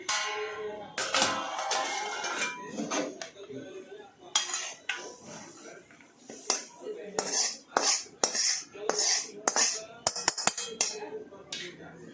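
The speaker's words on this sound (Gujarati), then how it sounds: "આપણે અલગ એક થાળીમાં કાઢી લઈશું" A metal spoon scrapes roasted wheat flour out of a pan onto a plate, giving repeated close clinks and scrapes of metal on metal in uneven bursts, with a brief soft voice early on.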